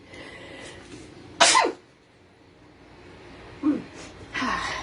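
A single sharp sneeze bursts out close by, followed later by a quieter breathy sound in an otherwise quiet room.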